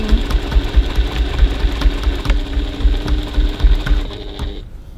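Sewing machine top stitching along the side of a handbag pocket, a steady, rapid, rhythmic needle clatter heard close up for several seconds before stopping abruptly near the end.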